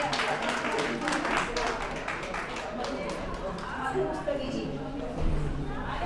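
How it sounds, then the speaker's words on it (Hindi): An audience at an International Women's Day event claps for a young girl singer, a dense, fairly faint patter of many hands mixed with crowd chatter, fading toward the end as voices carry on. "तालियां बजाया चल जाइए ऐसे बच्ची के लिए"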